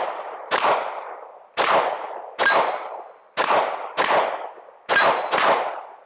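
Seven loud gunshots ring out from a firearm fitted with an H1L-GR laser light combo. Each crack has a long, echoing tail, some come in quick pairs, and they are spaced about a second apart.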